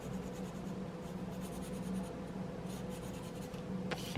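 A pencil scratches a line across paper, a soft continuous grainy rasp close up, steady for several seconds with a small knock at the end.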